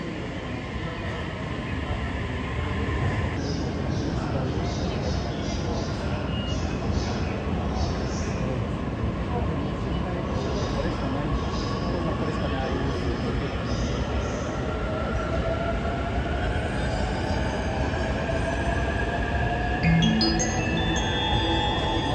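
Sunrise Express overnight sleeper train in Japan, a long, steady rumble of rolling carriages with a rising whine and brief squeals toward the end, with a voice heard at times.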